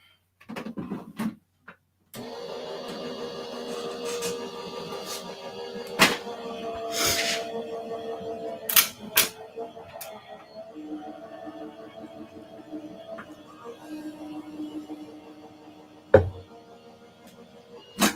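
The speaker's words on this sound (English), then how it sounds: "And we'll run it through the die machine." A die cutting machine for paper crafting runs with a steady mechanical grinding whir, broken by several sharp clicks and knocks. It starts after a few quiet seconds.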